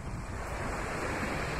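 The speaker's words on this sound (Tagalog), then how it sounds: "Yan po ang tabing dagat" Ocean waves washing onto a seashore with a calm sea, a steady broadband roar of surf mixed with wind buffeting the microphone, continuous and fairly close.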